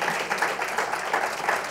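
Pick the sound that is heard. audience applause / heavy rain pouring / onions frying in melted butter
audience applause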